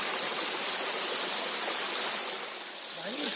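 Water pours steadily at the Rameshwar Mahadev waterfall in Bundi, a broad, constant rushing hiss that stays strong throughout, with a faint voice barely audible beneath it.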